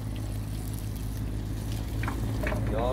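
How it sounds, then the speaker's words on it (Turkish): A steady sizzle of freshly caught horse mackerel frying in hot oil aboard a boat at Sarayburnu, Istanbul, with faint outdoor background noise. "tekneye geldik, kızartıyoruz."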